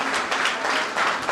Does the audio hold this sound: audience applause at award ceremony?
yes